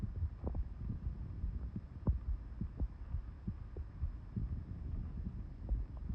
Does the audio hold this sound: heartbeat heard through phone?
yes